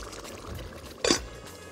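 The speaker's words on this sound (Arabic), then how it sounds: "ميه، ميه او شوربه" Water or broth poured over cauliflower in a cooking pot, one short splashing pour near the mic lasting a fraction of a second within a quiet kitchen room tone.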